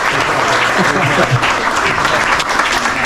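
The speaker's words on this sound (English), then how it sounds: "Let's give him a round of applause." Crowd applause at a crappie fishing tournament championship weigh-in, greeting the winning angler with loud, continuous clapping and some cheering, sustained for the whole stretch.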